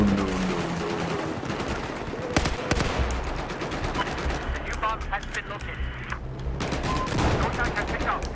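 Battlefield 4 gunfire: continuous loud automatic fire and scattered shots throughout, with someone talking over the shooting.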